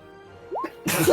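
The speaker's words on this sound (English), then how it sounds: "Sorry, I was sneezing." One quick sneeze bursts out close and loud after a short vocal rise, over a quiet background hum.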